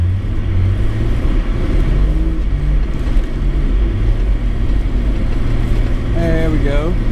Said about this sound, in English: We are trying to make it up and out of my driveway.